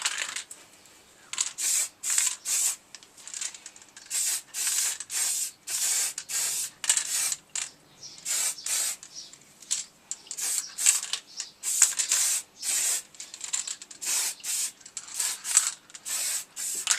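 A spray paint can nozzle laying down a coat in a garage, as a long run of quick, sharp hissing bursts close by, one after another with short gaps.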